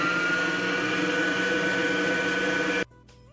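An electric mixer whirs steadily as it beats eggs for a flourless chocolate cake, a loud continuous motor whine that cuts off abruptly near the end, leaving quiet room noise.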